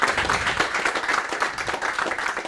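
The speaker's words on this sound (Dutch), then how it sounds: "Dan wil ik graag een hard applaus voor zowel Frans als Sjoerd" Hearty applause from a tech meetup audience, dense rapid clapping from many people sustained throughout, loud and even, with no talk over it.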